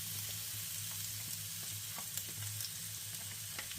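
Onion and chopped garlic fry steadily in a pan for a hot, crackling sizzle, and a few sharper pops rise over the even hiss. No one speaks.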